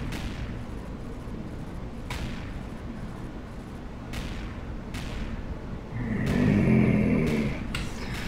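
Base turrets fire in Empyrion Galactic Survival as a series of sharp, evenly spaced shots about every two seconds, with a louder rumbling burst near the end, close and without talk.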